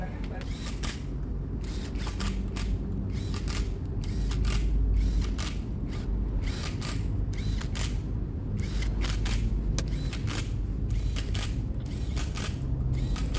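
Size-10 bolts are tightened on the transmission cover of a Honda BR-V with a failing CVT. A ratchet gives rapid bursts of close clicking, repeated in short runs over a steady workshop background.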